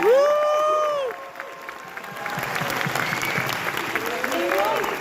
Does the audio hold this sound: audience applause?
yes